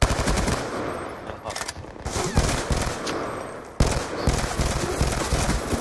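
Rapid automatic gunfire in Black Ops 2 Gun Game, loud and close, coming in dense bursts with brief breaks and a sharp restart near the end, with no voices over it.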